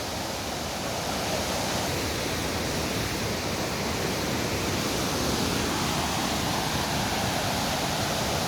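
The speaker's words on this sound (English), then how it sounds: "have a closer look at this waterfall, a very nice one" A waterfall in Kumrat valley roars as a steady, dense broadband rush of falling water, loud and unbroken from start to finish with no voices.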